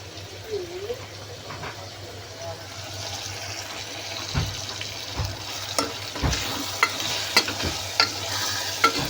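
Ginger garlic paste and chili powder fry in a pan for an egg and drumstick rasam, with a soft steady sizzle and occasional stirring scrapes and clinks, some louder near the end.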